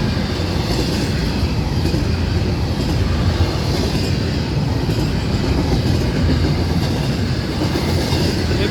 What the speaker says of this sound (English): All those empty flat cars sending south